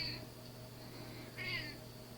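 A house cat meows insistently to be let out, two distinct meows, one near the start and a longer one about a second later, close to the listener over a steady low room hum.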